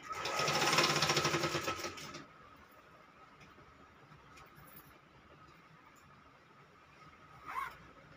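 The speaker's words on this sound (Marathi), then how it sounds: "चला आता मी ही पूर्ण उभी साईडला टीप मारून घेतो" A sewing machine stitches a long straight seam through a thick quilt made from old saris, a fast loud whirring burst lasting about two seconds, then quiet with a brief short run near the end.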